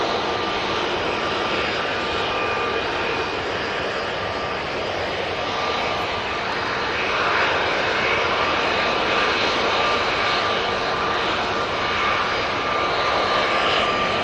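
An EasyJet jet airliner taxis at Manchester Airport, its engines a steady, loud broadband roar with a faint whine that holds level and swells slightly partway through.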